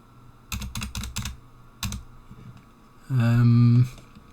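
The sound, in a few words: typing on a computer keyboard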